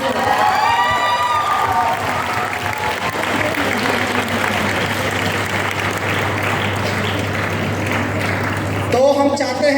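Loud, sustained applause with cheering from an audience at a stage event, filling nearly the whole stretch before fading into voices at the end.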